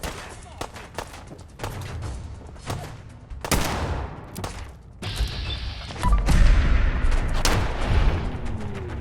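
Gunfire in the video game Fallout 4 comes as sharp shots and bursts mixed with thuds and booms, loud and irregular throughout, with some busy game noise underneath.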